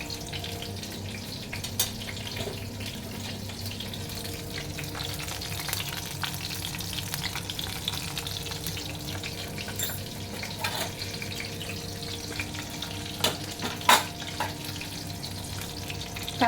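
Slit green chillies sizzle in hot oil in a pan, a steady, close frying hiss with a faint low hum running underneath and the odd small pop.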